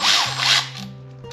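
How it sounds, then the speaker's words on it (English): An electric ratchet whirs in short bursts while working around the carburetor area of a snow blower. A loud buzzing spin comes first, then it settles into a steadier mechanical hum. "I'm going to use a electric ratchet because I spent all this money on tools"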